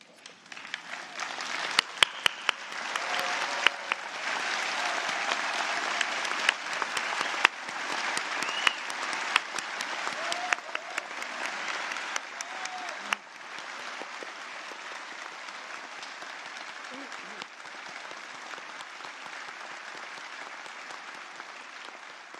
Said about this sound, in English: give those graduating a massive round of applause